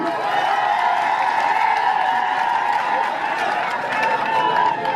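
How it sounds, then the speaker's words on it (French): A large crowd applauds and cheers steadily at a regional party working visit in Massangam, Noun, a dense continuous roar of clapping and voices with no break. "Applaudissez pour lui."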